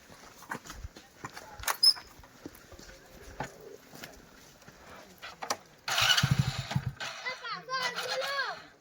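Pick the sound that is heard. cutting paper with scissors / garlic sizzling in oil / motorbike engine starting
motorbike engine starting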